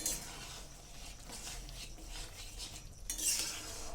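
Noodles being stirred in a pan, giving soft, scraping utensil strokes and light clinks against the metal, fairly quiet and close, with a brighter scrape near the end.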